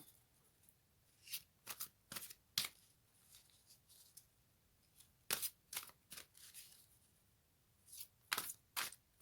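Tarot cards are shuffled by hand close up in a quiet room, with crisp riffling bursts arriving in irregular clusters separated by brief near-silence.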